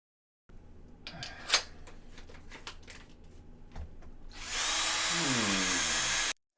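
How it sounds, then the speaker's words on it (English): A power drill spins up and whines loudly for a couple of seconds after some clicking and handling noises. "Hey Drinker, that drill bit isn't nearly long enough"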